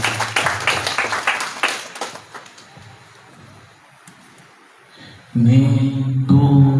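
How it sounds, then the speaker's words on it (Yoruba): Audience applause at a prayer event for a king's birthday celebration in Ogbomoso palace, a burst of rhythmic clapping that fades to near quiet before music enters loudly. "Ẹ jẹ́ ká pàtẹ́wọ́ fún ọ."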